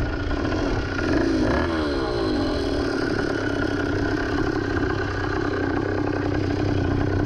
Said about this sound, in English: It's running out of gas. It's just sucking that little carburetor dry.